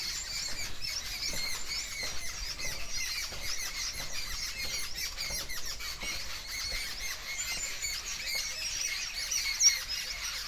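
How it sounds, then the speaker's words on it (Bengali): Birds near the Kangsabati river at dusk keep up a dense, steady chorus of high squeaky chirps and twitters. The calls sound moderately close and continuous, with no voices over them. "আর পাখির ডাকটা তোমাদের একটু শোনাই"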